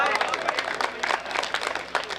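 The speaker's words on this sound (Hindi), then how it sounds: "तालियां बजाइए।" An audience at a Hindi comedy poetry gathering breaks into clapping, a dense patter of many hands rising and falling in loose bursts, with a voice mixed in.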